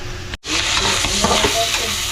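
Ingredients sautéing in hot oil, a loud, dense close-up sizzle that cuts out for a split second near the start and then hisses on steadily, with no voices.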